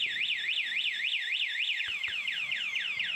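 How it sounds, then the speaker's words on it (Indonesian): A Honda Beat FI motorcycle alarm wails in a fast repeating up-and-down pattern, loud and continuous, with a couple of sharp clicks partway through. "pijit tombol paling atas motor akan berhenti alarm berbunyi"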